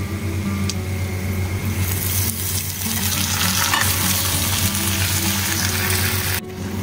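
Ginger garlic paste frying in a pan, giving a steady close sizzle with a constant bubbling hiss and faint stirring, heard alone without talk.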